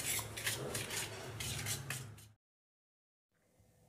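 Eggs and powdered sugar whisked in a bowl for a chocolate cake base, heard as a close, rapid rhythmic scraping and clinking of utensil against bowl, then abrupt silence and faint room noise.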